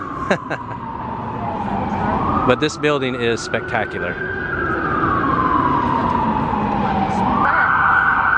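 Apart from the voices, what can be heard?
emergency vehicle sirens in city street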